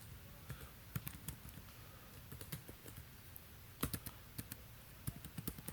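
Code is typed on a computer keyboard in irregular bursts of crisp, close key clicks, with short pauses between clusters and a quiet background.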